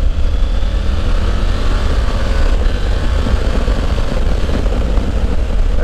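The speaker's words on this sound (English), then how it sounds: "That is a great exhaust sound." A 2020 Triumph Tiger 900 GT Pro motorcycle accelerates, a loud, continuous engine roar with a deep rumbling exhaust note, sustained and close, with no voices.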